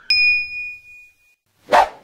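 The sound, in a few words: notification bell ding sound effect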